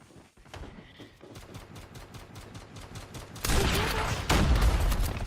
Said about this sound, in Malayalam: അവന്റെ കയ്യില് ഷോട്ട് ഗണ്ണാണ്